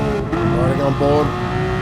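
Mercedes AMG GT3 race car engine in a racing game at Autodrome Lago Maggiore, a steady high revving drone with a quick shift and rising pitch, heard under a commentator's voice.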